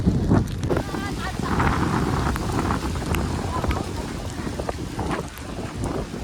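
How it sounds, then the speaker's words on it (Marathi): Strong wind roars and buffets the microphone in continuous gusts during heavy rain on a mountain trek, trees swaying, with a voice speaking over the rushing noise. "खूप वारा सुटलेला आहे जोरात"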